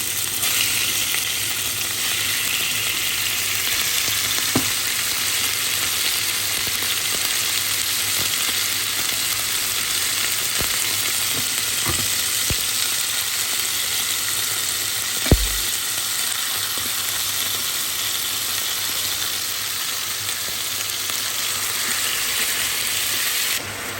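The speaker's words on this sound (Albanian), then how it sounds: "marrim mishin e pulës edhe hedhim në tigan" Chicken pieces frying in hot oil in a pan give a steady, dense sizzle throughout, close and continuous, with a few brief clicks and knocks and no talking.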